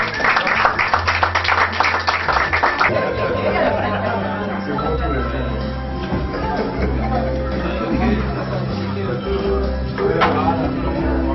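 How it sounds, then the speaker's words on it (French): An indoor audience breaks into a short burst of clapping for about three seconds, then the applause gives way to someone talking over a low, steady room hum. "Applaudissez pour le contrôle."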